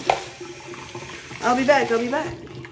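A steady stream of water runs while hair is rinsed during a wash-day routine, with a brief voice rising over the flow partway through.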